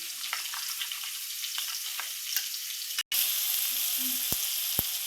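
Paneer frying with tomato and onion in a pan gives a steady close sizzle and crackle, broken by a brief silent gap before the frying resumes louder, with a couple of faint clicks near the end.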